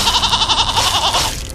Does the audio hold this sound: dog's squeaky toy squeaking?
no